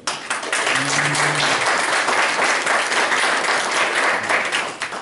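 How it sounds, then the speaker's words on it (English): A church congregation bursts into steady applause, dense clapping that holds for several seconds at even loudness, with a brief voice faintly underneath. "So shall we give a big hand to God for this provision?"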